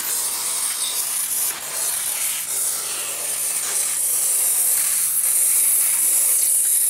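WD-40 spraying onto the valve cover seal area of a 2002 PT Cruiser, a close, steady hissing spray that continues with slight variations for several seconds.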